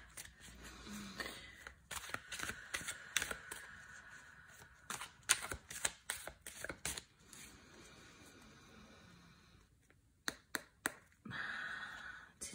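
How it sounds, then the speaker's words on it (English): Tarot cards shuffled by hand, giving close, crisp riffling and slapping bursts in an irregular rhythm with short pauses between rounds, no talking. "I'm just gonna do my regular way that I shuffle."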